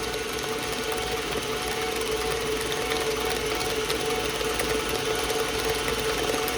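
An electric hand mixer whirs steadily while beating matcha cake batter, a constant close motor hum with a high whine and no pauses or speech.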